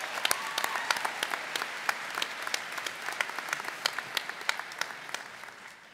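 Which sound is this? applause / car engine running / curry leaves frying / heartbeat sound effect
applause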